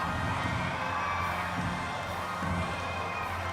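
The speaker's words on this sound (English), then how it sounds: "to the roar of this huge crowd here this evening" A huge crowd roars at the Pacific Games opening ceremony in Apia, Samoa, as the cauldron is lit. The cheering is dense and sustained, a continuous wall of distant voices with no breaks.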